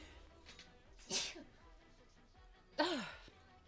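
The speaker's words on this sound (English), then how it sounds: "Also, I'm gonna sneeze." Two sharp sneezes, about two seconds apart, each a sudden burst of breathy noise over quiet room sound.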